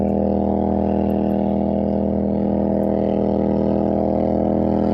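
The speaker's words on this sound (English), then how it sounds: "that boat's so loud" A loud motorboat passes close by on a river, its engine a steady, droning hum with a buzzing pulse that stays constant throughout.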